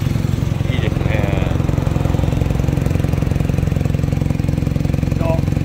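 A Honda Bab motorcycle left stored for 37 years idles nearby, its exhaust giving a steady, rhythmic low burble throughout, with brief faint voices over the engine.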